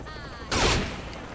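Gunfire from Saints Row The Third Remastered, a single loud burst of shots bursting out mid-clip and fading off, over faint game background.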